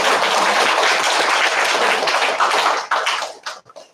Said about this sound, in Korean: 큰 격려의 박수를 한번 부탁드리겠습니다.